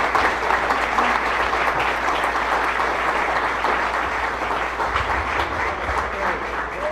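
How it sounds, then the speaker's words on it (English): A room full of people at a local history discussion at an event center gives sustained, dense applause for the speakers, a steady roar of clapping with a low hum underneath. "Will you please have a round of applause for all of our speakers here this evening?"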